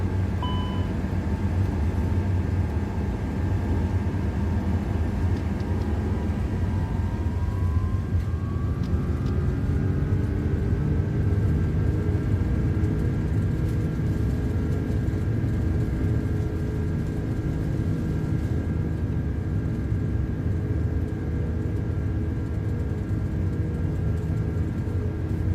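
Twin jet engines of an Airbus A330-300 freighter in a flight simulator spool up, a steady loud roar with a tone rising in pitch, then holding at high thrust throughout.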